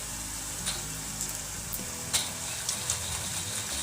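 Raw plantain chilli fritters fry in hot oil with a continuous close sizzle and hiss, broken by occasional sharper crackles and pops, steady throughout without any talking.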